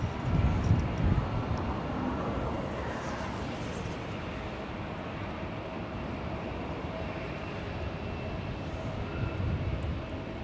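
A KLM airliner taxis quickly at Los Angeles airport, giving a steady, broad engine roar at moderate distance that holds level for the whole stretch, with a slight swell near the start and end.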